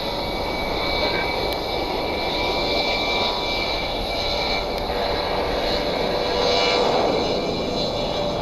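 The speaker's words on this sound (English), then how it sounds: "Delta Airlines Flight 1133 is a 717 heading up to Minneapolis" Delta Air Lines Boeing 717 jet airliner at Columbus Glenn airport, a steady loud engine roar with whine held throughout, fairly close and continuous.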